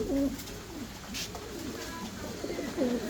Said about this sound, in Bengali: ডিম বাচ্চা করা কবুতর